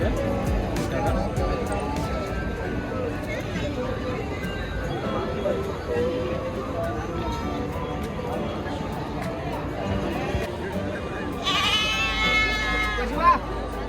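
At Kerur sheep market, sheep bleat amid a busy outdoor crowd, with people talking continuously and one clear, close bleat standing out near the end.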